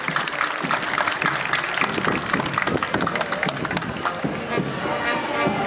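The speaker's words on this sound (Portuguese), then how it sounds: "Vamos aplaudir então a sociedade Bandeirantes de Schroeder" A crowd claps and cheers continuously as the Sociedade Bandeirantes of Schroeder closes its parade at the 25th Schützenfest, dense applause with scattered shouts and a murmur of voices beneath.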